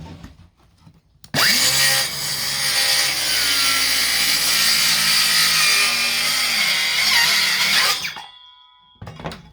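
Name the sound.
powerful saw cutting plywood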